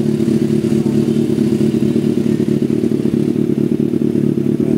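A 2024 Kawasaki ZX6R with a new aftermarket exhaust idles steadily and fairly loud, a deep, even exhaust rumble with a slight uneven pulse throughout, no voices.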